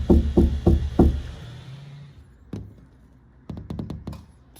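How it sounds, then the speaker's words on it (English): Knuckles rap on a window at an ice cream merchandiser near a camp spot, a rapid burst of four solid knocks, then after a pause a single knock and a quick cluster of lighter taps, close and loud. "I'll knock on the window over here."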